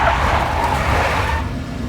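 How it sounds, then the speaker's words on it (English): Big black Mercedes in the Max Payne video game skids with a steady, loud tire hiss over a low engine rumble, a short continuous burst. "A big black Mercedes."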